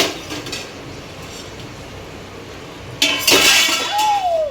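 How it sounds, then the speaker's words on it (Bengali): A metal lid is set onto a pan of chicken cooking in oil, first a soft clink, then a bright clattering rattle as it settles, over a quiet background of gentle frying. "তো একটা ঢাকা দিয়ে দিই"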